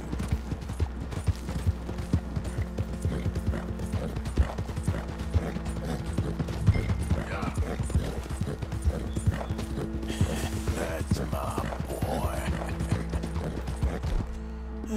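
Continuous rhythmic clip-clop of horse hooves trotting in the video game Red Dead Redemption 2, with occasional mechanical clicks and a faint whinny, steady and moderately close.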